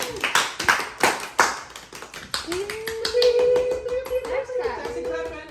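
A small child claps hands about half a dozen times in quick, uneven bursts close by, then a high voice rings out as the clapping stops.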